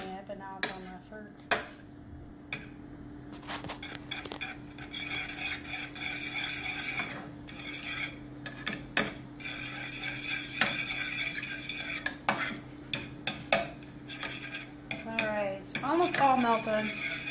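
Cooked potatoes are mushed in a slow cooker for potato soup, giving irregular close clinks and scrapes of a utensil against the pot over a low steady hum, with a little background voice.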